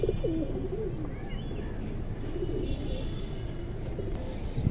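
Indian high-flyer pigeons, including a red-tailed hen, coo low and steadily in a soft, continuous murmur over a constant background hum, with a few faint chirps above.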